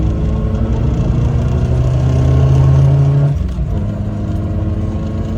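A Suzuki Samurai with a swapped-in 1.6L 16-valve engine revs up loudly and steadily, holding a raised pitch for a few seconds before dropping back toward idle, close by with no talking.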